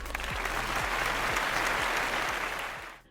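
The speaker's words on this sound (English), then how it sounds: "The crowd applaud, cheer." A fashion show crowd applauds and cheers after a model appears on the catwalk, dense sustained clapping over a thumping rhythmic beat, loud and even before fading out sharply at the end.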